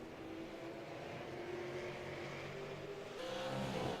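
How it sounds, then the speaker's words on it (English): Stock race cars lap South Boston Speedway during a Fall Brawl series event, a continuous distant engine roar droning evenly before swelling louder near the end. "One more lap to go for Samuel Roush."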